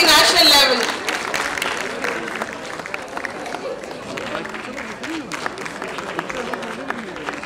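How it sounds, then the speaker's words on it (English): Audience applauding at a school annual day, a broad wash of clapping that starts loud and settles into steady, dense applause mixed with crowd noise and some voices. "Yes, please clap for them."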